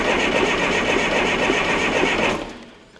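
A Ford starter motor cranks a Fordson FE35 tractor's 23C engine on a test setup, a loud, steady, fast whirring drone that holds for over two seconds, then cuts off and winds down.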